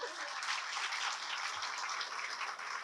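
A live comedy crowd claps together in a dense, sustained wash of applause, fairly steady for a few seconds before easing slightly at the end, with no speech over it.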